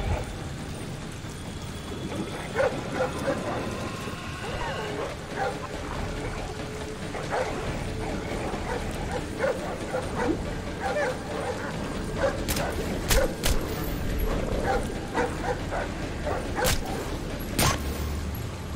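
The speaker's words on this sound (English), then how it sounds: "Them dogs." Guard dogs bark and yip repeatedly at mid distance during an abandoned-mill stealth mission in the video game Splinter Cell Blacklist, layered over ambient game noise with sharp bangs later on.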